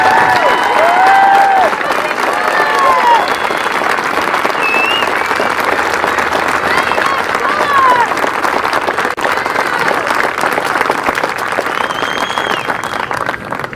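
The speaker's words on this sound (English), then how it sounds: "If you'll give them a great round of applause." Sustained, loud applause from a crowd at a high school Top 100 awards ceremony, with dense, steady clapping throughout, scattered cheers and chirpy whoops rising above it.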